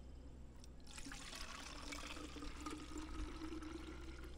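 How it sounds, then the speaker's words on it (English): Liquid trickles and pours into an empty Nalgene bottle at a camp, a quiet, steady, close gurgling stream lasting several seconds with no talk. "Hopefully I can pour this in here without spilling it."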